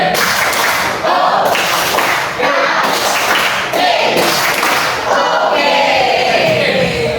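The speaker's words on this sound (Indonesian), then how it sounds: "Oke, ayo semuanya tepuk oke." A group performs the "tepuk oke" clapping pattern, loud and close rhythmic claps and thumps in repeated bursts over a steady crowd din, with voices calling along.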